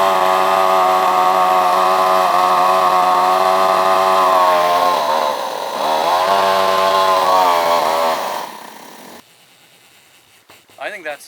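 An outboard motor with a newly installed carburetor, already warm so no choke, runs loud and steady with a rough buzzing drone that dips briefly, then cuts out and goes quiet near the end.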